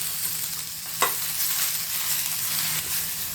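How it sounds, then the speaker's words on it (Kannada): Cinnamon, pepper and other whole garam masala spices fry in a pan with tomato for chicken curry, giving a steady close sizzle with one sharp utensil clack near the start and light stirring scrapes. "ಅದನ್ನು ಫ್ರೈ ಮಾಡ್ಕೊಳ್ಳೋಣ ಎಲ್ಲ."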